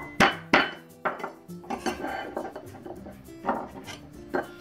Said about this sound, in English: Crush 2 cloves of garlic for the cabbage.